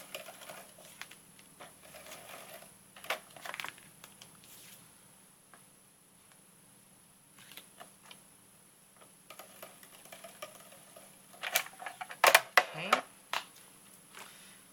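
Tape pulled and pressed onto a gold paper frame layer for a handmade Valentine's card, with soft crinkles and scattered taps building to a louder burst of rustling near the end.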